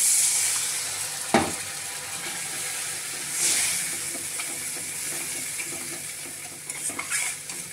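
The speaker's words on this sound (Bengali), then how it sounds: "আমি এখন জল দিয়ে দেবো এর মধ্যে।" Water poured into a frying spice paste for an egg curry, a sharp hiss and burst of sizzling that settles into a steady bubbling fry, with a few utensil clinks near the end.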